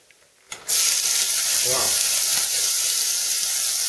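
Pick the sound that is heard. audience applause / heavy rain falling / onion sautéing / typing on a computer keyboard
onion sautéing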